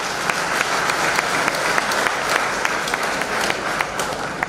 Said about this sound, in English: sharing a round of applause